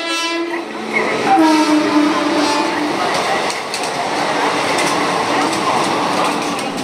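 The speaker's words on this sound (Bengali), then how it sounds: "আমাদের গাড়ি ঢুকছে" A passenger train pulls in alongside a station platform with a loud, continuous rumble and drawn-out squealing, whining tones from the wheels and brakes, as nearby voices murmur throughout.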